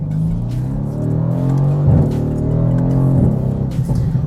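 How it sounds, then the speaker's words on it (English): A car engine hums steadily at a low idle, with a slight rise in revs partway through, close and continuous. "listening to the engine note of what I'm driving right now"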